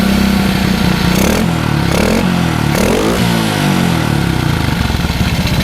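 A custom Honda Kirana motorcycle built to look like a Honda Monkey 125 revs its small engine, a continuous loud rasping drone with a few throttle swells, close by and without talk.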